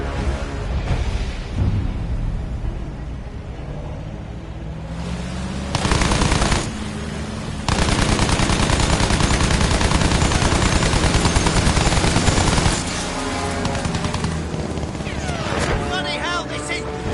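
Sustained bursts of automatic gunfire shooting down German soldiers in a video game, loud and dense rattling with sharp single shots between bursts, under excited voices talking.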